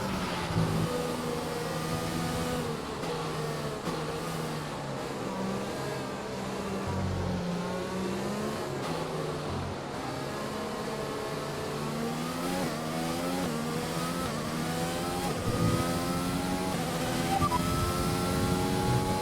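An F1 race car engine in the game F1 2020 at the China Grand Prix screams steadily as it accelerates through the gears, its pitch rising and dropping with each shift, loud and continuous throughout.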